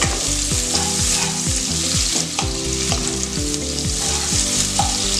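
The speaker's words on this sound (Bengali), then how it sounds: "পেঁয়াজটা আমি এবার একটু ভাজা ভাজা করব" Onions frying in a pan as the base for a Bhola fish curry, a dense continuous sizzle with stirring scrapes, close and loud, with a repeating low mechanical whine running through it.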